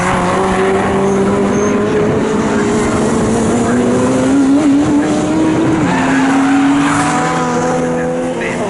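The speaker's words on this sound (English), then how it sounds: "now the number 43 Caterham of James Tubby is ahead of the Porsche of Peter Chalice" Caterham and Porsche race cars lap Snetterton circuit in an MSVR All-Comers race, their loud, steady engine drone rising and shifting in pitch as they pass close by, with a commentator talking over it.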